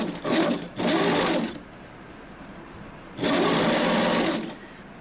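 A sewing machine stitches elastic onto a bikini in two loud bursts, one split by a short pause and a second after a quiet gap, with no talking.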